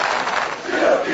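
A protest crowd in Široki Brijeg chanting football fan songs, a loud, continuous mass of voices singing together without a break.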